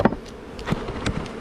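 Bees buzzing in a close, steady insect drone with a few louder passes as individual bees fly near, heard during hive work by a beekeeper.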